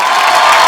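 A comedy-show studio audience erupts in a short, loud burst of cheering and applause, close and dense, with no talking over it.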